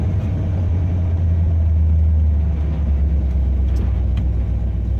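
A 1974 Ford F100 pickup with a swapped-in 5-speed gearbox drives along, its engine a steady, loud low rumble close by for the whole stretch with no talking.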